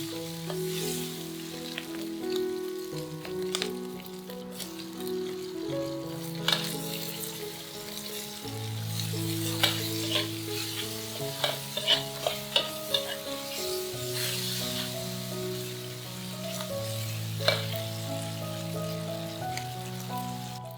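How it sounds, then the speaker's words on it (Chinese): Chili and minced garlic stir-frying in a wok give a steady, soft sizzle with scattered spatula clicks, sitting beneath louder background music for the whole stretch. "煸香之后再放辣椒和蒜末， 把蒜香味炒出来后再放香干"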